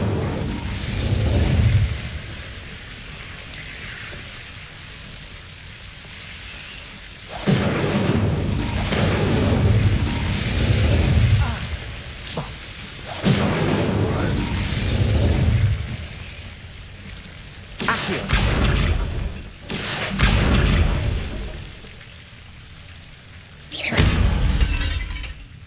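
The Incendio fire spell cast repeatedly in Hogwarts Legacy, heard as several loud bursts of roaring, crackling flame that swell and fade in turn, with quieter game ambience between them and no voices.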